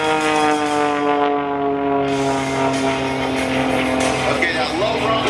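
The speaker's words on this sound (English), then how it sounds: "that low rumble you hear is that big 540 cubic inch six-cylinder Lycoming air-cooled engine" An aerobatic plane's 540 cubic inch six-cylinder Lycoming air-cooled engine drones steadily at an air show, a loud, harmonic rumble throughout with speech faintly over it.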